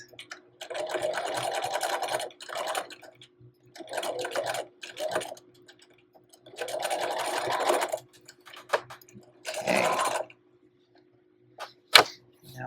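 A sewing machine sews in an invisible zipper in bursts of loud, rapid stitching that stop and start over several seconds, with short pauses and small clicks between runs.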